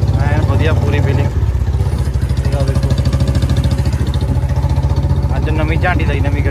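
A Bullet motorcycle idles close by with a steady low, even thump that runs throughout, while someone talks over it nearly the whole time.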